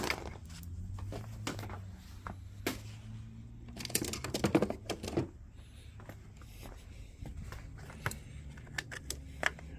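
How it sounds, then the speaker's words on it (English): Wire cutters snip through car audio wiring during an amplifier install in a 2005-2012 Toyota Corolla, sharp irregular clicks and snaps over a low background hum, with some handling rustle in between. "So I'm gonna start cutting those wires out."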